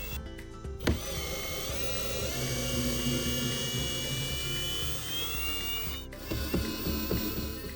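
A ratchet wrench turns out the bottom screws while a wood-burning stove is installed in an off-grid camper, giving a steady, continuous mechanical whir and clicking with a brief knock near the start and a few taps toward the end.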